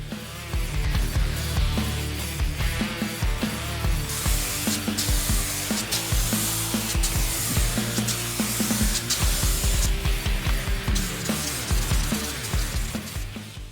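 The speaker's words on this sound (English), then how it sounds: "I really need to figure out a better system of spraying small parts like this" Small Honda ATC motorcycle parts are spray painted in Nogaro blue outdoors on a windy day, a continuous hiss of spray in repeated bursts over a steady rhythmic musical backing.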